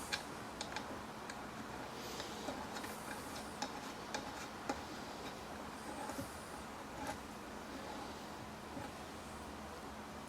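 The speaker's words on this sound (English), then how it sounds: "Let's go ahead and take our bump stop and screw it in." Bump stop screw being threaded into a Losi 5ive RC chassis, a quiet run of small close ticks and clicks with faint rubbing under low room noise.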